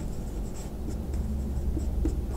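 Pen scratching steadily across paper while a definition is written out by hand, a close, continuous soft scribble over a low background hum, with no voices.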